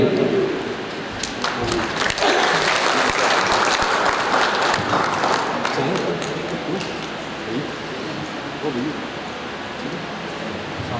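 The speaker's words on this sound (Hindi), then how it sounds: "एक बार फिर से जोरदार तालियों के साथ स्वागत कीजिए" Audience at a stage play about Samrat Vikramaditya claps steadily in a dense round of applause, loud at first and gradually thinning out.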